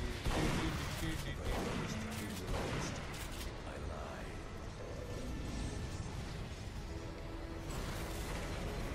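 In Duke Nukem Forever, enemies fire in a steady, dense stream of gunshots that merge into a constant rattle, at moderate loudness and without a pause.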